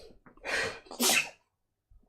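A single loud sneeze with a sharp inhaled buildup and an explosive burst, followed by a brief quiet pause.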